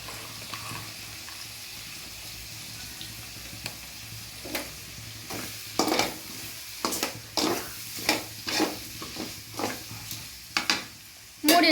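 Paneer butter masala is stirred and scraped in a sizzling pan: a steady frying hiss under irregular spoon-on-metal scrapes and knocks that grow louder and busier toward the end.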